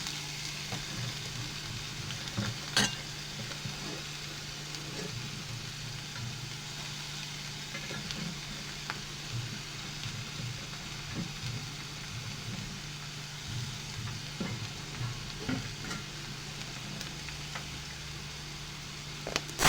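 Chopped bitter gourd sautéing with onion and curry leaves in a pan gives a soft, steady sizzle across the whole stretch, with occasional faint clicks of stirring and no talking.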